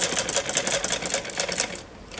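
A sewing machine stitching a curved seam on a trouser cuff, a fast rapid clatter of needle strikes repeating evenly, close and loud, stopping just before the end.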